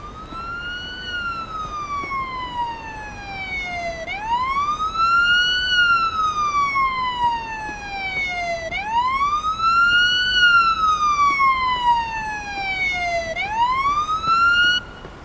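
A loud ambulance siren in the video game Police Simulator: Patrol Officers wails, sweeping slowly up and down in three long cycles, with nothing else heard.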